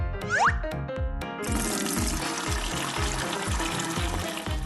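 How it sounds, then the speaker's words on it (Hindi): Clean water pouring into a tank, a steady rushing flow that runs continuously after a short plop and splash at the start, with a rhythmic thumping underneath. "अब हम टैंक में साफ पानी भरेंगे"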